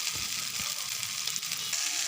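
Noodles fry in a hot pan with a steady, close hissing sizzle throughout, broken by a few soft stirring knocks.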